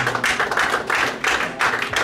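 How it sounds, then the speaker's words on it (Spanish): A church congregation claps for the Lord at an evangelical service, in rhythmic bursts roughly every third of a second. The clapping is fairly loud and close, with no talking. "Dele palmas al Señor."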